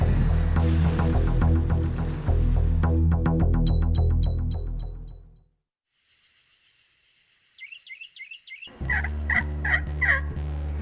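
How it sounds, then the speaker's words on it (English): A turkey hunter's call sounds a yelp in short series of repeated raspy notes, coming in bursts amid other tonal sounds and a brief quiet gap. "a simple yelp is one of the most versatile calls that a turkey hunter can use in the woods"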